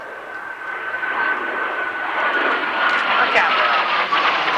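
Canberra jet bomber engines, each of 7,500 pounds thrust, roar steadily and loud at a 1991 Alconbury airshow, a rising whine threading through the broad rumble while a voice speaks briefly.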